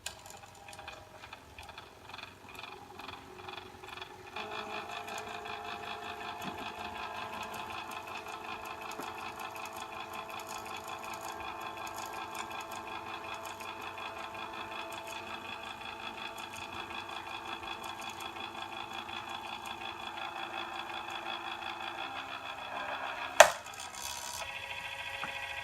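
A Silhouette Mint stamp maker runs with a quiet, steady electronic whir and faint rhythmic ticking for over twenty seconds, ending in a sharp click near the end.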